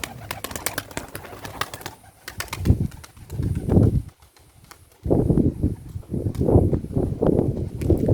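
A trained racing pigeon is released in light wind, its wings clapping and flapping in two close bursts, the first briefer, the second longer and more sustained, against a quiet outdoor background.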